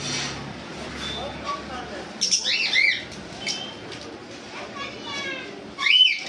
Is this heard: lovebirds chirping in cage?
yes